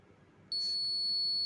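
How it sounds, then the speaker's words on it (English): A gas sensor alarm wired to an Arduino sounds a steady, piercing electronic beep that starts abruptly partway through and holds continuously to the end over faint background hum. "now alarm is triggering at 170 and LED also blinking"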